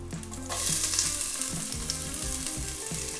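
Garlic and onion sizzle steadily in a hot pan for a Portuguese refogado, a loud, continuous frying hiss with a few soft stirring knocks and no talking.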